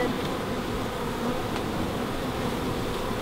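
Honeybees swarm around a newly installed beehive, their dense, continuous buzzing loud and close, a steady droning hum with no speech.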